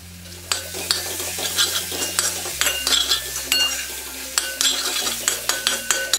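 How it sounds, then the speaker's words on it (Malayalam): Tomatoes and a generous handful of curry leaves frying in a pan for crab curry, stirred with a utensil that clinks and scrapes in repeated strokes over a steady close sizzle, with no voices. "ഇനി ഇതിലേക്ക് കുറച്ചധികം കറിവേപ്പിലയോടെ ചേർത്ത് ഇതൊന്ന് ഇളക്കാം."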